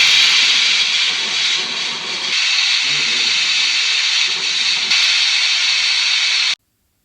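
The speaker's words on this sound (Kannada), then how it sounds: "ಕುಕ್ಕರ್ ಮೂರು ವಿಷಲ್ ಕೂಗಿದ ನಂತರ ಸ್ಟವ್ ಆಫ್ ಮಾಡಿದೆ" A loud, steady hiss of steam jetting from a pressure cooker cooking vegetable bath, continuous for about six seconds before cutting off abruptly.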